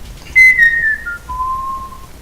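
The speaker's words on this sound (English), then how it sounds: "Waldron whistles" A video game character in Palette Swap whistles a short tune: a bright, sliding high note, a brief pause, then a lower held tone, loud and clean with no speech.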